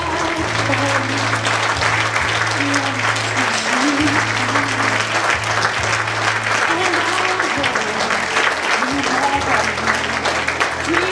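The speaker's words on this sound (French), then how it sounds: "Applaudissements très très forts." Loud, sustained applause from a large crowd at a national beauty pageant fills the whole stretch, dense clapping over a steady hum and faint voices.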